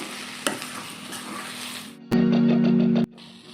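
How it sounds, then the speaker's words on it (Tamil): Banana flower cutlet mixture with salt, poppy seeds and garam masala is stirred in a bowl, giving a steady close scraping and mixing sound, followed by a brief loud humming burst near the end. "கசகசா, கரம் மசாலா, இது எல்லாத்தையும் ஒரு கலக்கிட்டு நல்லா ஆறட்டும்."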